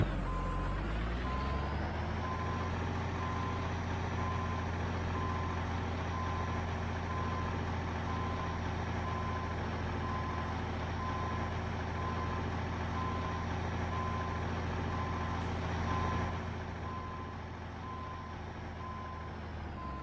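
A truck in American Truck Simulator, hauling boom lifts, backs up with a steady, evenly spaced electronic reversing beep over a constant low engine rumble; the engine noise drops off near the end while the beeping continues.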